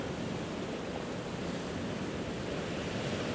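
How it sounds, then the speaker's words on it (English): Gentle surf washes steadily onto a beach, a continuous soft broadband hiss of lapping waves with no pauses or voices. "The gentle surf laps against the beach, and with the next wave,"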